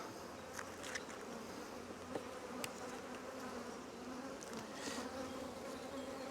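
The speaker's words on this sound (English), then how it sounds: "Bees are starting to bother me." A steady swarm of honey bees buzzing close by around an open hive, with individual insects droning past now and then over a constant hum.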